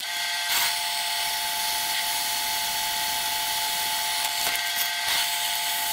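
A drill with a 6 mm bit boring a hole in the tool rest of a grinder used for sharpening lathe tools, giving a steady, high, continuous whine with a few brief louder bursts.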